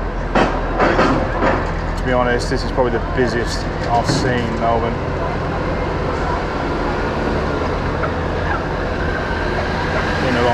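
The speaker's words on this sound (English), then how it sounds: "just gonna wait for this tram to go past" A tram rumbles past on a busy Melbourne street at night, a steady rolling drone with low mechanical hum, while someone talks over it early on and city noise continues around.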